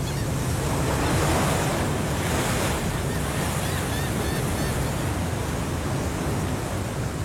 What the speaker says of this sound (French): c'est là que la vague va venir